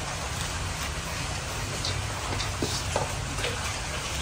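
Heavy storm rain pours down steadily in a broad, even wash of noise, with faint patters and splashes standing out now and then, and no voices heard.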